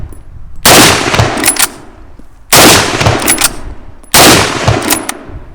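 A Browning Maral Big Game straight-pull hunting rifle fires three loud, sharp shots spaced about two seconds apart, each followed by a ringing decay.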